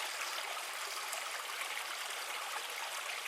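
A creek flows steadily and close by, giving a continuous, even hiss of rushing water with no talk over it.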